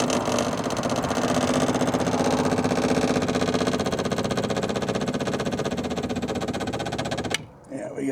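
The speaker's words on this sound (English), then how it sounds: "It's a little beefier fuel pump." A beefier replacement fuel pump runs on a 454 Cobra engine, giving a steady, loud mechanical buzz and whir that holds for about seven seconds before cutting off abruptly.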